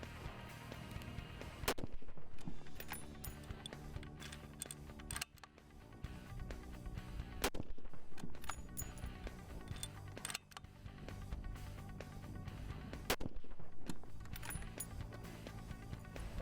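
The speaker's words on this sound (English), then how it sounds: "give us 3 shots" Three loud, sharp rifle shots fired at a 100-yard range, each crack standing alone and spaced several seconds apart with quieter outdoor background between them.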